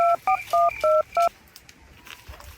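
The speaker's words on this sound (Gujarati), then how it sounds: "એમ્બ્યુલન્સ ને ફોન કરાલ ફટાફટ કર તું." Five quick touch-tone beeps sound as a number is dialed on a telephone to call an ambulance, sharp and evenly spaced, followed by faint background noise.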